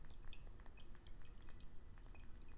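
Water poured gently into a bowl during a quiet guided healing practice, a soft steady trickle with faint drips, close and low in level, with no voices.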